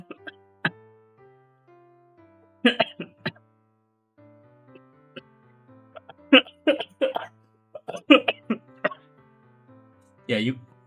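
Several short, sharp coughs come in bursts during a livestream, some clustered in quick runs, loud and close with quiet gaps between them and no talk over them.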